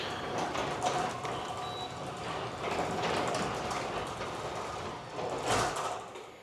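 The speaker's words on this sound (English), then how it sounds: "Close this garage door." A garage door being pulled closed gives a long rattling, scraping rumble with uneven clanks and a louder burst near the end, fairly close, with no voices.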